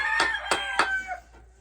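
Backyard chickens crow and cluck loudly up close, three sharp calls in quick succession, then the sound falls quiet.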